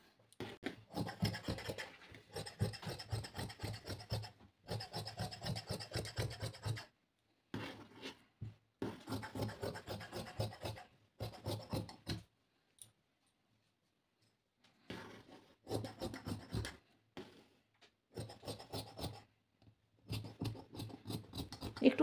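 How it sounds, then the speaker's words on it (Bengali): Scissors cut blouse fabric in rapid crisp snipping runs, each burst of many quick cuts separated by short silent pauses, heard up close with no talking. "তো চলুন এরপর কেটে নিই।"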